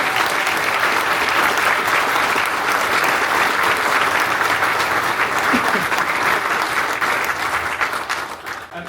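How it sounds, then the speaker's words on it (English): A concert audience applauds a youth brass band at an anniversary concert, a dense, sustained roar of clapping that holds steady for several seconds before starting to fade. "So give a massive round of applause."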